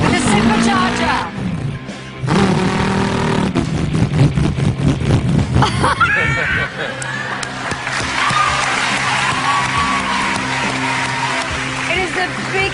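A voice mimics a Shelby car's supercharged engine, rising through revving, whining and roaring sounds. It plays loud and continuous over crowd noise and cheering.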